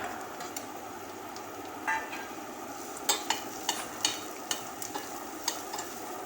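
Chopped onion frying in a pan, a low continuous sizzle broken by a run of sharp spatula taps and scrapes in the second half, close and unaccompanied by talk.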